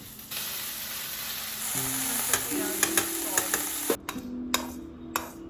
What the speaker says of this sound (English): We're gonna throw in our blanched broccoli.